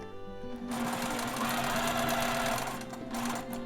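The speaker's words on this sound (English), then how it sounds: "So here we are going to sew at 3/8 of an inch." A sewing machine stitches a neckline seam at a 3/8 inch allowance, a steady close mechanical whir running continuously with slight dips near the start and end, no voices.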